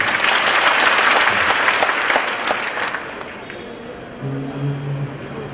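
An audience at a Nair community wedding claps along during a prayer song, a dense, loud wash of applause that gradually fades, followed by a sustained sung tone.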